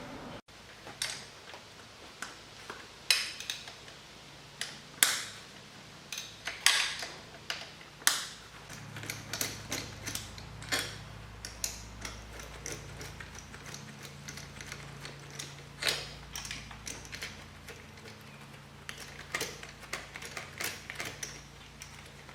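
12mm fuel rail bolts come off a 4G63 engine, a ratchet wrench clicking in quick, irregular bursts close by, with occasional sharp metallic taps and quiet pauses between.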